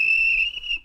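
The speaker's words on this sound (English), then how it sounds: "That's my guard's whistle." A train guard's whistle on a model railway gives one shrill, steady blast lasting under a second, loud and close with no one talking.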